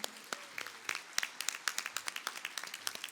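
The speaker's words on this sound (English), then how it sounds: "let's give a big round of applause for the Owensboro Volleyball Club" A small audience at a community breakfast gathering claps for a volleyball club, faint and sparse with individual claps standing out, and a few voices murmur underneath.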